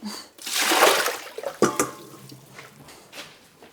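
Water drains and splashes briefly from prepared scallops in a kitchen, with a short pour followed by a few scattered drips and small knocks.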